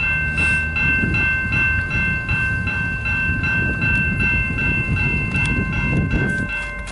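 An eastbound CN mixed freight train rolls past in Port Huron, Michigan, a loud continuous rumble of wheels and cars with a horn tone held above it, close to the listener the whole time.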